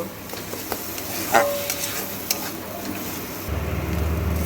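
Long bean bharta with oil, salt and turmeric being stirred in a pan, a soft scraping with low sizzle and a few sharp utensil clicks, steady and close with no talking.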